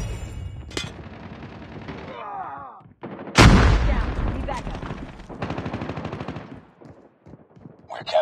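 Assault rifle and pistol gunfire in a Call of Duty Mobile Domination match on the Terminal map, with rapid automatic bursts, a loud close blast midway and scattered shots amid game effects and brief voice callouts.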